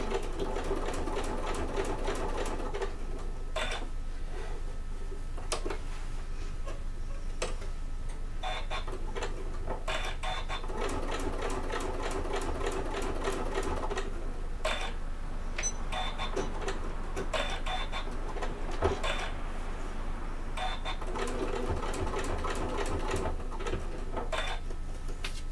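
A sewing machine stitches an Adventure Bag in repeated bursts of rapid, close clatter, stopping and starting several times with short pauses between runs.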